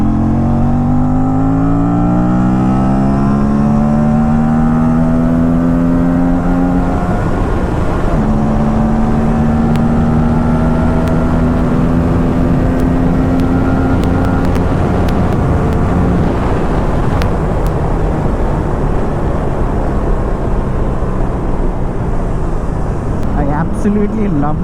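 A 457 motorcycle engine pulls steadily while riding, a loud, close drone whose pitch climbs and dips with each rev change, all over constant wind rush.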